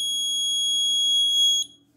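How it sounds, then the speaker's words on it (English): Small electronic alarm in an ESP32 QR code parking system, a single piercing high-pitched continuous tone held for about a second and a half, then cut off, in an otherwise quiet room. "small alarm."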